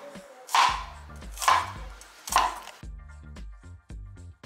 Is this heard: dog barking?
no